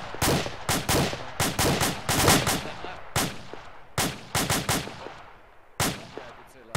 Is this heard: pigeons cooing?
no